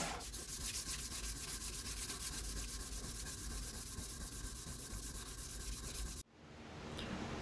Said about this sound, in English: I'm gonna finish off the rest of the finish by hand sanding